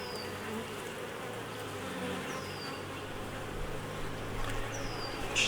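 Honeybees buzzing steadily and close around an open hive during a week-five brood inspection, a dense continuous drone with a few sharper passing whines.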